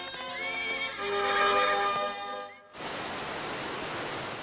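A Kabardin horse neighs in one loud, close whinny with a wavering high tone that lasts about two seconds, then cuts to a steady rushing noise like wind or water.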